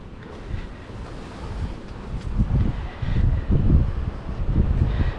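Strong, constant wind gusting outdoors beside a backyard pool, a loud rumbling buffet on the microphone that swells and surges in waves, with no talking.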